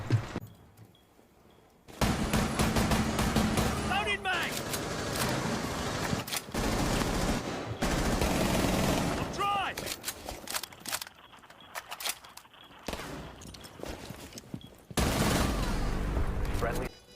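Shotgun fire in Rainbow Six Siege, heavy repeated blasts and clatter of a tactical gunfight running almost continuously after a quiet opening, with game noise and a voice talking over it.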